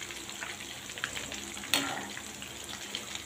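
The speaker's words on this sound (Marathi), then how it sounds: "तेल पहिले चांगलं तापवून घ्या आणि बारीक करा आणि मग मिरच्या सोडा त्याच्यामध्ये" Green chillies dipped in batter for Rajasthani mirchi pakoda sizzle steadily in hot oil over a medium flame, a close, continuous crackling fry with one brief sharper spatter partway through.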